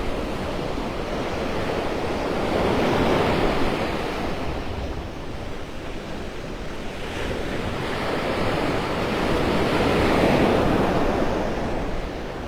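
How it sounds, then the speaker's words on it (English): Ocean surf breaks on the shore at Vanderbilt Beach in North Naples, Florida, a wide roaring wash that swells and eases in slow surges over the length, with wind gusting across the microphone and no talking. "Boy, the waves are getting bigger down here."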